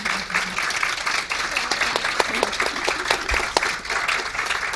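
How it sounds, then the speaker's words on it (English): Audience applause fills a Glasgow Film Festival 2022 panel session, a dense, steady wash of many hands clapping close by, sustained from start to finish with no voices standing out. "I would like you to all give a huge round of applause for my terrific colleagues up"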